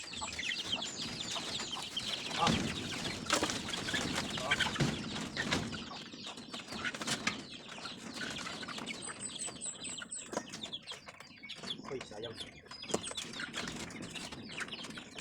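A flock of young white leghorn chickens about 45 days old clucks and chatters continuously nearby, with bursts of wing flapping and scattered sharp calls throughout, no talking.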